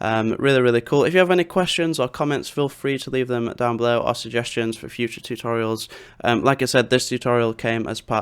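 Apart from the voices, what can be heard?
No everyday noises stand out.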